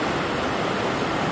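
Water pouring over a reservoir dam in the Elan Valley, Wales, a steady, dense rushing roar like a waterfall that fills the whole short stretch without pause, loud and continuous with no voices over it.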